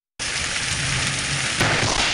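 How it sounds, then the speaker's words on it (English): Hail pounding the ground during an afternoon storm, a sudden dense hiss and clatter that starts abruptly and grows louder partway through, with no voices. "You can see the hail pounding the ground seconds before the huge lightning strike."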